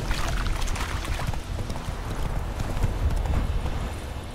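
Roach, Geralt's horse in The Witcher 3, gallops with a rapid, continuous clip-clop of hooves that stays close and steady throughout.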